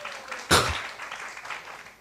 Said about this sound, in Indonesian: Tepuk tangan dong buat teman-teman kita yang di stage